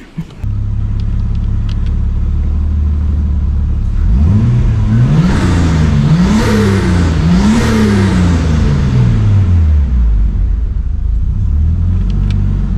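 Nissan R33 Skyline engine under boost, rumbling at idle and then revved hard several times in quick climbing sweeps before settling back, loud and close.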